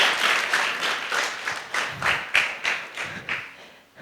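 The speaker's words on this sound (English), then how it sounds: "Can we have a round of applause for him," Audience applause for an official at an African award ceremony for a multiplication competition, steady clapping that swells into rhythmic pulses before tapering off at the end.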